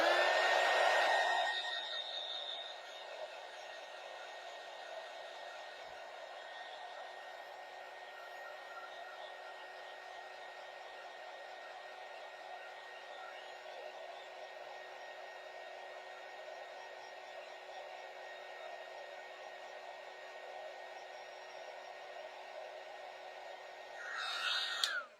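A hair dryer blows steadily on freshly painted pieces of a fall tiered tray craft, holding a constant whir for about 25 seconds with no talk over it. It clicks on at the start and cuts off near the end.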